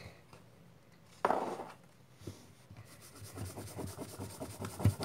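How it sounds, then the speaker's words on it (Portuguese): A pencil eraser rubs lightly on paper in short, close scrubbing strokes: one brief burst, then a longer run of soft, rapid friction. "Vou dar aquela apagadinha de leve, mas é uma apagada que ainda dá pra ver"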